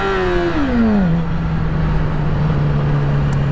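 A car engine at high revs, its pitch sliding down as the revs fall, then holding a steady, loud hum close by with no talk.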